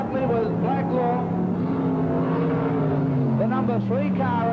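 A pack of 1980s sprint cars races on a speedway, engine drones overlapping and sweeping in pitch as cars go by, with announcer commentary throughout.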